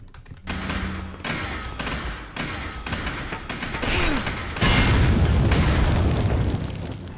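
A grenade goes off in the Resident Evil 4 video game as a loud, booming blast with a heavy low rumble that swells and lingers, preceded by thuds and mechanical clatter from the game's action.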